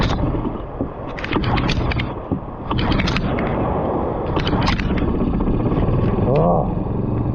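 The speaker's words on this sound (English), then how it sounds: "Oh, I hate pull string motors" A pull-string outboard motor drives a small boat, its loud steady engine drone running throughout with water splashing around it, and someone talking over the noise.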